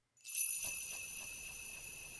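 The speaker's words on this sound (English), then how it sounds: "So the Christmas bell at the intro, the start sounds like that." A synthesized Christmas bell opens a song intro, striking once and ringing on as a faint, bright, sustained high shimmer that slowly fades.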